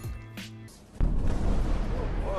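A grenade explodes in the video game Modern Warfare, a sudden loud boom that lands after a second of quieter game sounds, followed by a rumbling tail with faint background noise.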